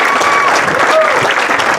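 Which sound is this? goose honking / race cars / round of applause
round of applause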